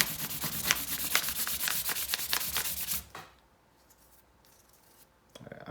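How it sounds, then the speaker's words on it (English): Rhythmic close-up rubbing strokes of 1000-grit sandpaper on a Sig Sauer P320 polymer grip module, about three seconds of steady scratchy back-and-forth, then near quiet with a faint handling sound at the end. "Go back to the 1000 grit."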